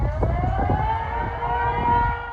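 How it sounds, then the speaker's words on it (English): Civil defense tsunami warning sirens in Hokkaido, Japan wail steadily at a distance, a sustained rising tone over low rumbling traffic or wind noise. "Civil defense sirens wail in Japan's northern prefecture of Hokkaido"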